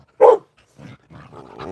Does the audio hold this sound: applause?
no